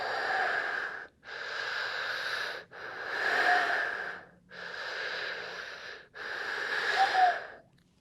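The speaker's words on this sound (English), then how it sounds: "Put one on top of the other and breathe in and out." Five slow breaths in and out through two fists stacked like a helmet during a kids' yoga session, each a hollow, airy rush lasting about a second with brief pauses between, close and fairly soft.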